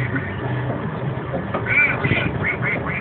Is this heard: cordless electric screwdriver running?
no